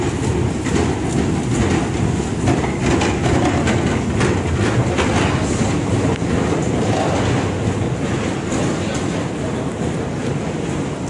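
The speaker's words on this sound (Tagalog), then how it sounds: "Sakay kami ng train." Constant loud rumble and rattle from inside a moving train in Budapest, dense rolling noise with faint clicking, no pauses, heard from a passenger's position.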